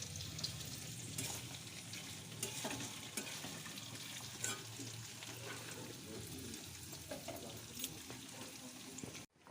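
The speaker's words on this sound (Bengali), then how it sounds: "পনিরটা ভাজা হয়ে গেছে মোটামুটি।" Paneer frying and being stirred in a pan, a steady close sizzle with scraping and clinking of stirring throughout, running nearly continuously before cutting off abruptly at the end.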